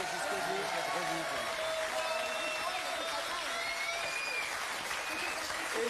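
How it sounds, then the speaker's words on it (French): A studio audience at a TV quiz show applauds in a dense, steady burst of clapping that holds at an even level throughout. "on peut l'applaudir aussi très fort"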